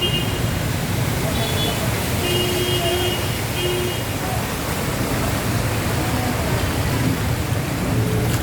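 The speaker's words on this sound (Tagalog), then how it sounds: "At lumalakas na naman ang ulan" Steady heavy rain roars over flooded Taft Avenue, a dense broadband hiss with faint rumbling underneath and occasional distant tones.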